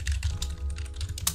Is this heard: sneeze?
no